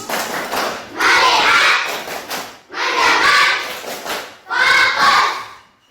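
Classroom group clapping chant of the Indonesian tepuk fokus kind, three loud bursts of rhythmic claps mixed with children's chanting voices, separated by short pauses.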